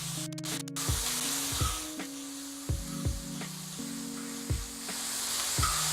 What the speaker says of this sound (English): Get your bacon, put it in the disc.